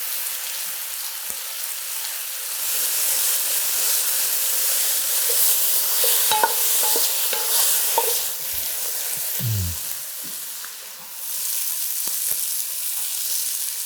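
Mushrooms fry and brown in a pan with a continuous loud sizzle, broken midway by a few clatters as they get stirred, then the hiss settles and swells again; nobody speaks.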